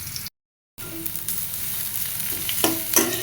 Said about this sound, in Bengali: কড়াইতে তেল দিছি, তেল খুব ভালো মতো গরম হয়ে গেছে। এখন এর ভিতরে আমি দিয়ে দিলাম পেঁয়াজ।